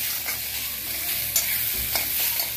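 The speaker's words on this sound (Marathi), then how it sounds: "व्यवस्थित परतून घेतलं" Ingredients for a cashew paneer masala are sautéed in a pan, giving a steady, close sizzle with a few sharp scrapes and stirring clicks of a spoon, and no talking.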